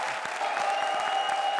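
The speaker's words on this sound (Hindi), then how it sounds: "जोरदार तालियां राजीव और सलोनी के लिए" Studio audience applause on the Indian comedy TV show Comedy Circus: a steady, dense wash of clapping that carries loudly through the whole short stretch with no talk over it.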